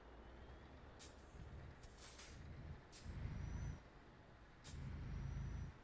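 Truck air brakes hiss and puff in the Euro Truck Simulator 2 video game while driving through Ukraine, several short sharp releases over a low, quiet engine rumble.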